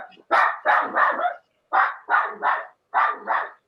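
A dog barks close by in three quick clusters of two or three barks each, with short pauses between the groups.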